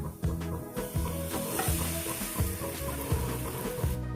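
Two beaten eggs hitting a hot pan for a cheese omelette, with a steady loud sizzle and regular scraping stirs in a repeating rhythm, close up and without speech.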